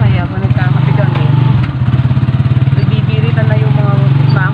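Fishing boat engines rev loudly and steadily at a Philippine fishing spot, a dense continuous drone with a strong low pulsing hum filling the whole stretch, with voices faintly mixed underneath.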